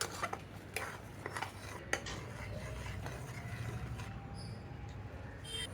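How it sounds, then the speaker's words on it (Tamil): Onion and tomato paste being stirred as it fries in oil, faint sizzling beneath repeated light scrapes and clinks of a spoon against the pan. "நம்ம கிளறி விட்டுக்கினே இருக்கணும்."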